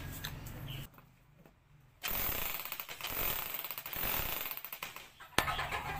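A cheap electric jackhammer set to hammer mode starts up after a short quiet gap and pounds in a rapid, rattling rhythm, loud and close.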